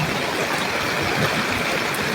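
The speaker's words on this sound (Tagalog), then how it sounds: "Ito yung malaking ilog sa aming bayan." A flooding river rushes steadily in a broad, continuous roar nearby, with no other sounds standing out.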